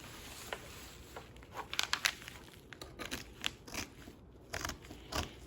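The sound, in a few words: cutting t-shirt fabric for shoulder bag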